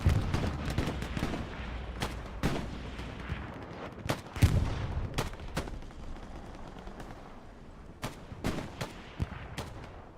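Rifle gunfire in the World War II shooter Hell Let Loose during a competitive match: repeated sharp shots, some close and loud, others farther off, scattered irregularly over a rumbling battlefield background.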